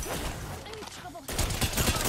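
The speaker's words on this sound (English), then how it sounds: "They're shooting at me." Bursts of rapid gunfire from the Apex Legends video game crackle loudly over in-game voice lines, with a denser volley near the end.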